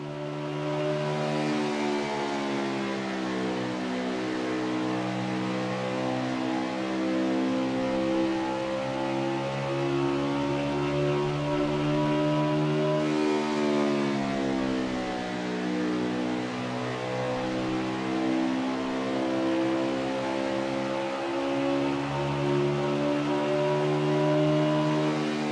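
Stock cars roar around Dover's oval in the NASCAR Heat 5 racing game, a steady, loud engine drone of two cars running close together, with pitch swelling and dipping as they battle, heard without any talk.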